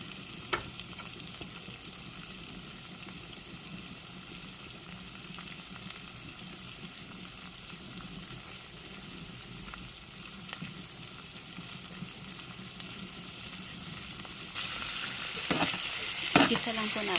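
String beans (sitaw) frying in oil, a soft continuous sizzle with occasional crackles and stirring clatter that grows louder toward the end, no talk.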